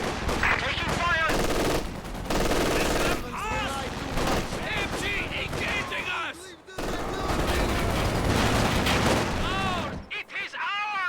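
Rapid machine gun bursts and scattered gunshots ring out continuously in a video game battle, with commentators talking over the fire almost throughout before it cuts off near the end.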